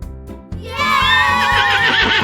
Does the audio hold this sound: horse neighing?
yes